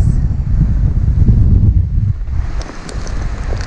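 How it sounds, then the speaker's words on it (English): Strong wind buffets the microphone on a small boat at sea during rain, a loud, close roar that eases briefly partway through before gusting again. "Oh, it's raining."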